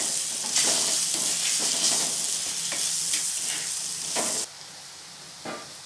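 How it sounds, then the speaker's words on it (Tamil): Masala spices sautéing in hot oil for a small-onion and garlic kuzhambu, a steady loud sizzle with stirring scrapes throughout, easing off near the end, no talk. "எண்ணெயிலேயே மசாலா பொருட்களெல்லாம் அப்படியே வதக்கி விட்டுக்கலாம் 1 நிமிஷத்துக்கு."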